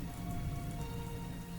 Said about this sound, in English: We are talking heavy-duty thunderstorm rain